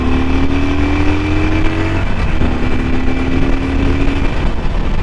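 A 2021 Harley-Davidson Sportster 1200 V-twin is ridden at full throttle from first gear, its loud engine roar climbing in pitch through the rev range, close and continuous with wind rush.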